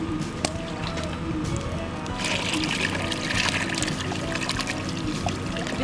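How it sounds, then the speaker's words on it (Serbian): Water is poured into a cooking pot of part-boiled beans at a campsite, making a continuous splashing pour with a brief rush of louder flow over constant outdoor background noise. "Sad ćemo dodati vode koliko nam još treba"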